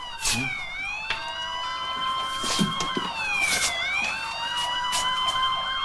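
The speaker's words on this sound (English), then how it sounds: "Must be a large one by the sound of those sirens" Several emergency sirens from a large neighborhood fire wail and yelp together at a distance, overlapping and sweeping up and down steadily.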